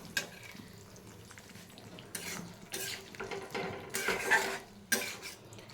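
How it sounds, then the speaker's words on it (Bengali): Curry being stirred and slowly sautéed over low heat in a pan, with clinks and scrapes of a spoon against metal in uneven bursts, fairly close, with no talk. "ঢেকে ঢেকে কষাবো"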